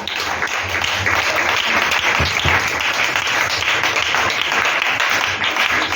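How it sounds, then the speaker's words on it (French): A church congregation applauds the Lord in a dense, steady wash of clapping that holds loud and even for the whole stretch, with a faint voice or two mixed in. "Acclamons le Seigneur"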